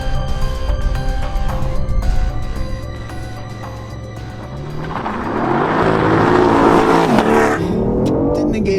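A BMW i8 hybrid launches in a drag race, starting with a whirring idle before the engine surges into a loud, rising acceleration howl that climbs through gear changes, close and continuous.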